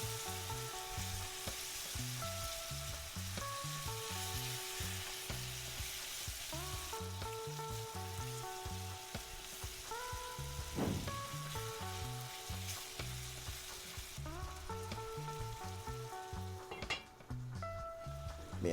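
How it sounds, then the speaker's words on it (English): Chicken pieces sear in a pot of Jamaican curry with a constant loud sizzle, set against steady rhythmic music and a few light clinks of utensils. "I'm placing each piece of chicken in the pot"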